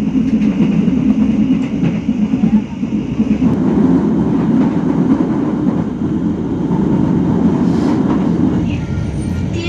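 The Joglo Semarkerto passenger train rumbles past close by with a loud, continuous roar and faint rhythmic wheel clatter on the rails, sustained throughout without a break.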